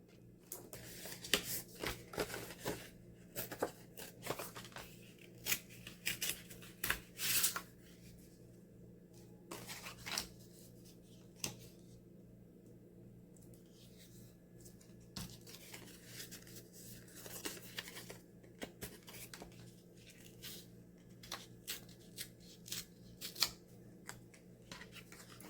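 Scissors cutting paper for a junk journal oven pocket, with repeated crisp snips and rustling paper handling in irregular bursts, close and fairly quiet, with no talking.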